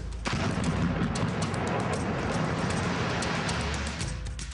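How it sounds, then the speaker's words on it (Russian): A building known as the phenol house in Moscow, December 2006, is blasted with 160 kilograms of explosives set around its perimeter: a sudden loud bang gives way to a dense, roaring rumble that lasts several seconds before easing. "Несмотря на 160 килограммов взрывчатки, заложенные по периметру, здание всего лишь осело на один этаж."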